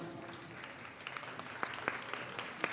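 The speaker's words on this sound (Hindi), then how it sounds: "जोरदार तालियां" An audience applauding, a soft steady patter of many hands with a few sharper claps standing out, heard from a distance.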